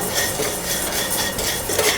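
Red poha dry-roasting in a kadai over medium flame rattles and scrapes under a stirring spoon, a dense close-up clatter of metal on metal without any voices.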